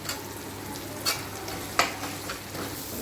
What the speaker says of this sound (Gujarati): હવે લસણ, મરચી, આદુ, હળદર ને લાલ મરચું એની પેસ્ટ કરેલી છે એ આપણે નાખી દઈશું